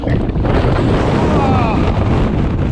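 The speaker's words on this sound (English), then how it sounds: "as soon as you come out into the wind, it's Jesus Christ, it's just craziness" Strong gusting wind buffets the microphone while riding a 2020 Trek Rail 9.8 e-bike downhill, a loud, continuous rushing roar that fills the entire moment with no speech.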